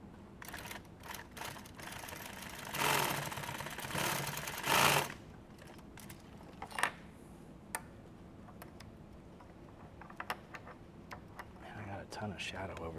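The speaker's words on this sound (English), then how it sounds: "I'm going to sew this right here." Sewing machine stitching nylon tactical gear in short bursts, with a longer run of rapid stitching in the middle, scattered clicks and handling noises around it, all fairly quiet and close.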